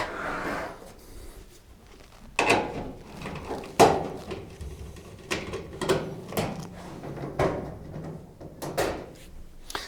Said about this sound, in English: remove the 4 screws at the back that hold the side panel in position